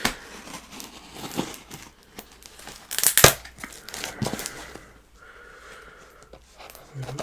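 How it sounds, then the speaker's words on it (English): A penknife slices through a very securely taped parcel box, giving crinkling, crackling and tearing of tape and cardboard, with one sharp loud rip about midway and softer rustling around it. "So I have got a penknife for this one. So let me get into it and see what delights await inside."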